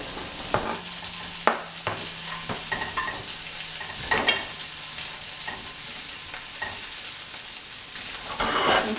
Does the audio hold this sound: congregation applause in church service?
no